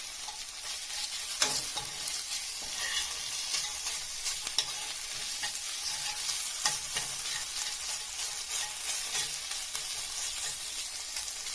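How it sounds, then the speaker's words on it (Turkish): Tomato paste frying in a little oil with garlic, stirred steadily: a continuous close sizzle with scraping and clicking spoon strokes, no talking. "biraz içine yaklaşık iki kaşık domates salçası ilave edeceğiz. Ve iyice karıştıracağız."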